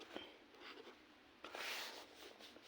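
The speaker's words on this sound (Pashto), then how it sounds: "نو پهله کوېسچن لیکو بیا سلیوشن طرف ته راځو." Pen writing out a math exercise question by hand on paper, a quiet close scratching that rubs along in short strokes with brief pauses, no talk.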